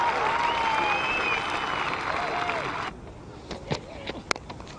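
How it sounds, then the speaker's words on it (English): A cricket crowd at the 2021 England vs New Zealand Test gives light applause after a boundary: a few seconds of steady, distant clapping, then a quieter crowd with a few scattered claps. "Lightly applauded."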